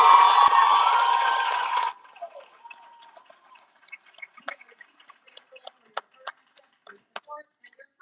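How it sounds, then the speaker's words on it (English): An audience at an eighth grade closing ceremony at Morgan Park Academy breaks into a loud, dense burst of applause and cheering that cuts off after about two seconds, leaving scattered, faint individual claps and clicks trailing afterward. "Can we give them one more round of applause?"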